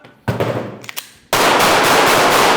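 Gunfire during shooting-on-the-move tactical training with a suspect-vehicle scenario: a few sharp separate shots, then a sustained loud rapid burst of fire close by filling the second half.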